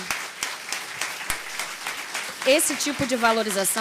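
Audience applause in a legislative committee hearing on military firefighters' career progression, scattered claps building into a fuller round, with a voice speaking over the later part.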